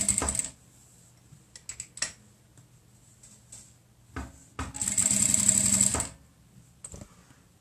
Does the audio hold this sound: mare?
no